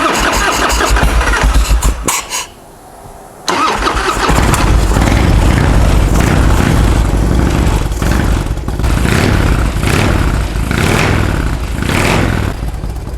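Evolution-powered Harley-Davidson motorcycle engine cranking, catching after a brief gap, then idling loud and close with a steady, lumpy rumble.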